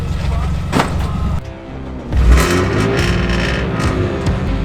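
BMW E36 engine cranking and catching, then revving loudly with a rough, rumbling idle and some clatter, close by.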